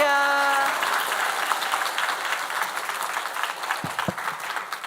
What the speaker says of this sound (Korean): 우리 할렐루야 박수 치면서 환영하면서